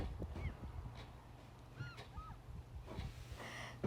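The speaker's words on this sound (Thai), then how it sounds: "ให้ฟังเสียงนกค่ะ" Birds call on a windy, overcast seashore, with several short honking and squawking calls coming from a distance over steady wind noise, and a few faint sounds that may be a voice.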